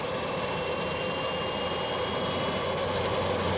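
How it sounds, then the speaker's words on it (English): A Garrett TPE331 turboprop aircraft engine spools up in a steady, loud whining roar with a sustained high tone, alone with no voices. "Let's start the engines."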